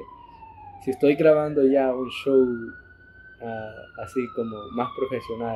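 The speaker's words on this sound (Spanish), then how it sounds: "como ven ahorita la ambulancia, la pueden escuchar que va pasando." An ambulance siren passes by outside, its wailing tone rising and sweeping across while someone talks over it throughout.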